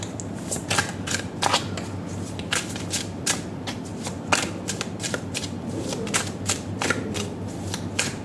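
Oracle cards are shuffled and drawn by hand, close-up, giving a run of crisp riffling flicks and sharp card snaps that repeat irregularly over a soft, steady room background.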